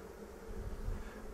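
Honey bees swarming in a hedge keep up a quiet, continuous low drone, faint and even throughout.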